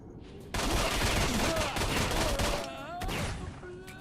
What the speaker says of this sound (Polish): Pistolet.